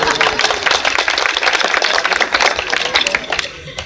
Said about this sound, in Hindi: तालियां तो ऐसे बजा रहे हो